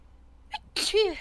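One sharp sneeze, brief and fairly close, is preceded by a faint intake of breath, with a short tail of voiced sound after it.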